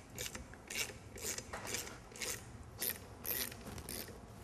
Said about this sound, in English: So first you go and you tighten them until the bolt stops.